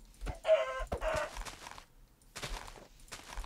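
Minecraft chicken clucks in two short bursts, fairly close, followed by scattered soft thuds and a second brief cluck near the end.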